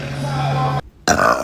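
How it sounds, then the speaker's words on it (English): A woman lets out a loud, close, drawn-out burp with a steady low pitch, cut off abruptly, followed by a brief pause and a noisy voiced sound. "Normalize burping as a woman."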